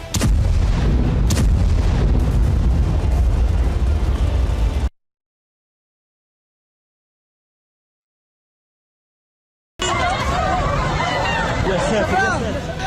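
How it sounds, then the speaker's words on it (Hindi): Heavy bombardment and explosions in Khan Yunis, Gaza, rumble as dense, loud, low booms and crackle. The noise cuts out into a long silence and then returns, with voices heard alongside. "इजराइल खान यूनुस में भयंकर बमबारी कर रहा है।"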